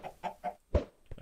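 A chicken in the video game Minecraft clucking, with four or five short bursty clucks in quick succession, close and alone.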